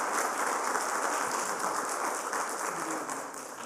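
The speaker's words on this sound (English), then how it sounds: "we're going to give you a round of applause first" An audience at a feathers-themed art and science session gives a steady round of applause, dense and sustained throughout without a break, filling the room at moderate loudness.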